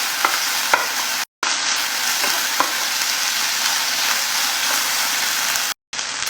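Onions stirred while frying in a pan, a constant loud sizzle with occasional faint scrapes of the spoon, broken by two brief dropouts.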